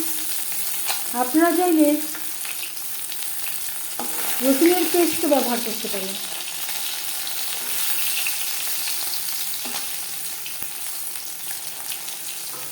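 Fish sizzles and crackles steadily as it fries in a pan, a constant close hiss throughout, with a person speaking briefly over it in two short stretches.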